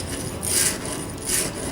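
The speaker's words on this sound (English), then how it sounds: "it allows you to put the chisel in there and just hold it at your set degrees, and you run that back and forth on these wheels" A chisel clamped in a wheeled honing guide rasps back and forth across a sharpening surface, a steady close scraping that swells in two strokes, with no voices.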